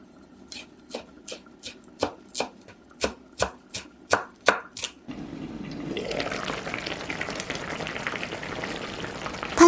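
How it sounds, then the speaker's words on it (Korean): Knife finely chopping parsley on a board, about a dozen crisp, evenly spaced close taps, followed by a steady bubbling, frothy wash of boiling liquid. "파슬리 송송 썰어 넣어줄게요."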